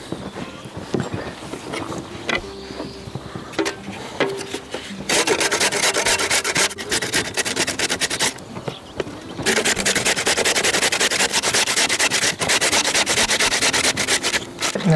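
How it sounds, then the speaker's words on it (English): A potato is grated by hand, giving steady rasping strokes in long sustained runs that swell loud and close, with short quieter pauses between bursts. "Now I'm going to grate the potato."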